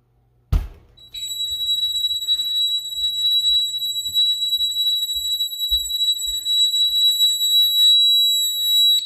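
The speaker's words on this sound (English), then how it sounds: "Alarm, back window." A home security system alarm goes off at a back kitchen window: a sharp thump, then a steady, piercing high electronic tone that holds continuously, with faint low knocks underneath.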